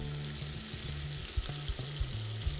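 A whole head of garlic and quail frying in a pan make a steady, close sizzle with a low hum underneath and a few soft pops and ticks.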